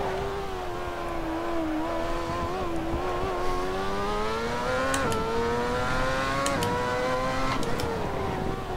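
A Lotus T125 open-wheel racer fitted with a Cosworth Champ Car engine howls at high revs in the Assetto Corsa racing game, its steady loud whine rising and dipping through gear changes, with brief sharp shift blips, no talking.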